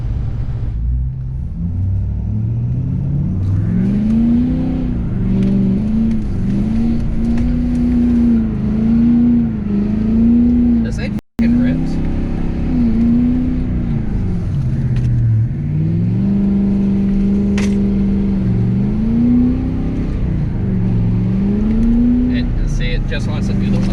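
A tuned, deleted 2017 Ford Super Duty truck revs repeatedly while spinning donuts in a snowy parking lot in Texas, its deep engine rising and falling in long, loud cycles throughout.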